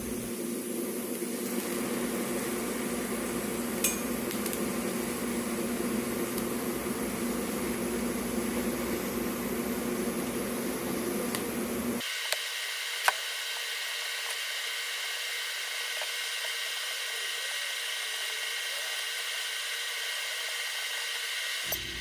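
TIG welding a cracked cast iron exhaust manifold with high nickel filler rod, a steady hissing, buzzing arc hum that holds evenly, then shifts in tone partway through, with a few faint clicks and no talking.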